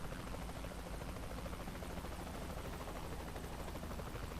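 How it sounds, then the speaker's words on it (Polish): A helicopter flying in the video game Saints Row The Third, a constant whirring rotor and engine drone held at an even level throughout, with no talking. "helikopter. A no teraz latać będę musiał"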